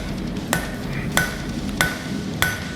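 Four evenly spaced, ringing hammer blows forging a road spike on the corner of an anvil, each strike sharp and close with a brief metallic ring.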